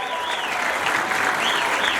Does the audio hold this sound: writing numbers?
no